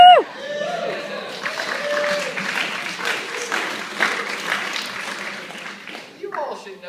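Students in a wine class clap after a whoop, a brief burst of applause mixed with crowd chatter and voices, fading into murmuring talk.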